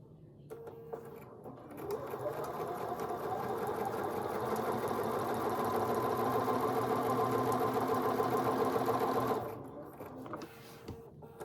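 Sewing machine chain stitching appliqué quilt blocks for a small wallhanging, a continuous mechanical whir that ramps up, runs steadily for several seconds, then winds down, heard close with a quiet room around it.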